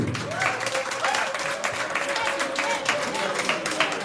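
An audience applauds and cheers at a Congolese concert gathering, dense rapid clapping with shouts and whistles, loud and continuous, while voices carry through the crowd.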